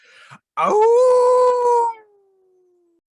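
A narrator imitates a coyote howling at the moon, a single loud rising howl that holds steady for over a second and then trails off into a long, fading tail, with a short spoken exclamation just before it.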